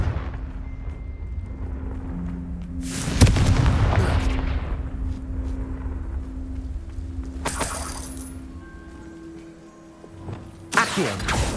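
Fiery Confringo spell blasts in Hogwarts Legacy: three sharp, loud explosive bursts spaced several seconds apart over a low, steady ambient hum.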